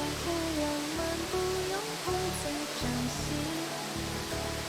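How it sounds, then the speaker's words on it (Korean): Bailongtan, the largest of four waterfalls in Zunyi, Guizhou, China, gives a steady broad roar of falling water with spray. Music plays over it throughout. "4개의 폭포 중 가장 큰 바이룽탄 폭포"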